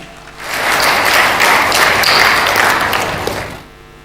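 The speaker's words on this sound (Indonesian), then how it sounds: "Tepuk tangan semuanya." Audience members at a civil-servant learning festival in Pamekasan, Indonesia, break into loud applause that swells quickly, holds for about three seconds and then fades back down.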